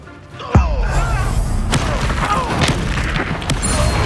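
Incendio fire spell cast in the Hogwarts Legacy video game, a sudden booming blast followed by a rushing, crackling burst and continued combat rumble, loud and close.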